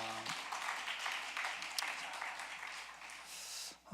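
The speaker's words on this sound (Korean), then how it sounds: "큰 박수 부탁드립니다." A church congregation at a Wednesday worship service claps together, a fairly dense patter of hands that holds steady before cutting off abruptly at the end.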